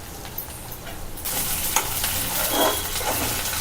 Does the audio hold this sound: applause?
no